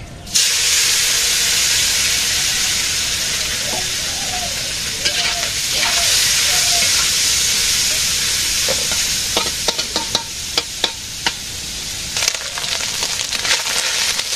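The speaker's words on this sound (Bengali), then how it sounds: "তেল গরম হয়ে গেছে, মাছটাকে ভাজতে হবে।" Fish frying in hot oil for a Bengali sour curry with starfruit and a little aubergine, a steady broadband sizzle throughout with scattered clicks and pops, close and continuous, with no speech.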